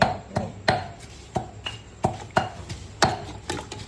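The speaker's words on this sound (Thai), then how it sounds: "จะตำน้ำพริกกะปิ" Shrimp-paste chili dip, nam phrik kapi, is pounded in a mortar, about ten sharp thuds in a steady rhythm, close and distinct with no voices.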